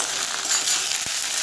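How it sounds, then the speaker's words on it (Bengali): Ginger garlic paste fries in a pan of oil with a steady close sizzle and a single light knock partway through. "দিয়ে এটাকে 1 মিনিটের মতো একটু ভাজা ভাজা করে নেব"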